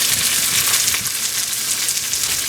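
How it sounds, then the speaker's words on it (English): Three cups of fresh-cut corn sizzling in a skillet, a dense, loud, steady crackle that holds from start to finish with no voices. "I'm going to add 3 cups of corn to my skillet"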